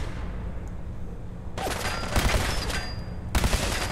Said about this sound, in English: At least the grenade worked as intended. Blew both of the robots up without a problem.